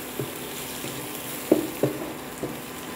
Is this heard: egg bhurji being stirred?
yes